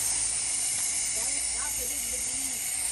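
A garden hose sprays water on fruit trees against thrips, giving a constant close hiss of spray throughout while a voice talks faintly underneath.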